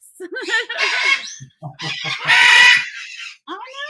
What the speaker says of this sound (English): Sorry, the doors to the bird shop. They're going to start yelling